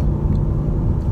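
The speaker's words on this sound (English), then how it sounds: "The exhaust has a really nice sound to it." Steady, deep rumble of a Ford Focus RS exhaust droning at a constant level with slight rasp, close and loud, with no voices.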